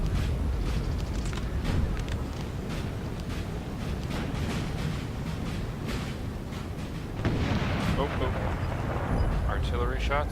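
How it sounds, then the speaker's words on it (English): Artillery fire rumbles across a Napoleonic battlefield in Napoleon Total War, a dense, continuous roar of distant cannon booms that blend with battle noise. "Artillery shots"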